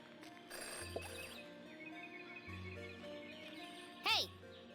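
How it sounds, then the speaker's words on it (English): A telephone rings in a mystery detective video game, a short electronic ring that is faint and soft in the mix, with brief chirping tones and a light background score. "In her short time as a detective, Jenny had learned never to ignore a ringing phone."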